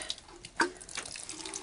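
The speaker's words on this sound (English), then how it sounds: "And I think I need to clean this spout out. It's not pouring very well. Not sprinkling very well." Water pours unevenly from a partly clogged watering spout onto seed starting mix, with a brief splashy burst and then a faint, steady trickle close by.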